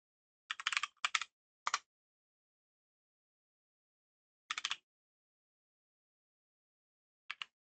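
A computer keyboard being typed on in a few short, quiet bursts of keystrokes separated by long silent gaps, close and isolated.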